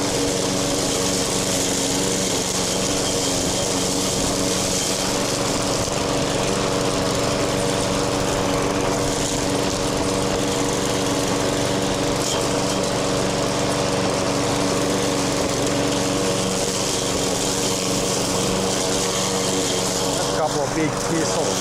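Lawn mower engine running steadily while mowing grass outdoors, a continuous close droning hum that holds for the whole stretch with slight variations, no talk standing out.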